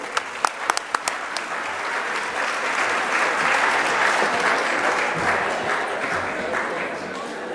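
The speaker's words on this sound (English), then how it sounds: "We want to ask all of you to big them up tonight with a round of applause." Sustained applause from the audience at a Caribbean tourism media awards ceremony, opening with a few sharp individual claps before swelling into a steady, dense wash of clapping that holds loud through to the end.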